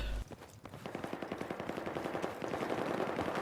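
A 93R pistol firing in the video game Battlefield 3, a loud, rapid string of shots in quick succession, each crack tightly spaced, with no voices.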